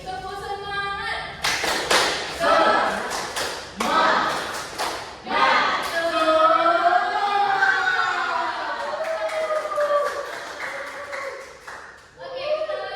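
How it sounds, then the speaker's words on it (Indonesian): Schoolchildren in a classroom clap a rhythmic spirit clap in short bursts with a teacher's voice, then talk and a sung chant carry over most of the rest, with sharp clap onsets standing out early and near the end. "Ulangi, tepuk semangat."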